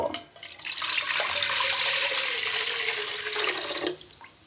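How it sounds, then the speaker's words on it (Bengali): Coconut milk pouring steadily into a cooking pot in a home kitchen, a continuous splashing liquid stream lasting several seconds, close and fairly loud, then tapering off. "এবার একটি পাতিলে আমি নারকেলের দুধটা ঢেলে দিব"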